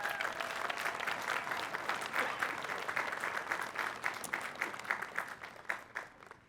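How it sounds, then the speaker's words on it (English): Audience at a university commencement ceremony applauding the choir, a broad sustained wash of clapping that grows more scattered and individual toward the end as it begins to fade. "Let's have another round of applause for our choir."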